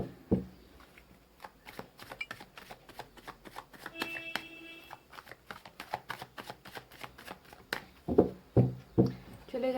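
Tarot cards shuffled by hand in a rapid, steady riffle of crisp flicks, close and clear, ending with a few louder taps as the deck is squared.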